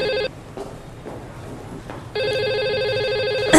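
A telephone rings in two bursts of electronic trilling tones, clear and close, separated by a quiet gap of about two seconds with faint room noise.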